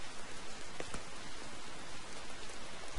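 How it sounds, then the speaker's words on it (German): Steady rain falls over ruins in a Final Fantasy 9 cutscene, an even, dense hiss of drops with no voices throughout. "Es regnet weiterhin in den Ruinen von Bomestia."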